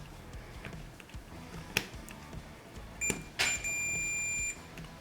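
A multimeter's continuity beep sounds while its probes touch railway sleepers on a ballasted track: a steady, clear tone lasting about a second near the end, after a few faint clicks and taps over low background noise.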